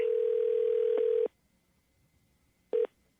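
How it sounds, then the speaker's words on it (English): A telephone ringback tone during a call placed live on a morning radio show: one long steady purr, a pause, then the start of a second ring, clear and close with no talking. "it's ringing"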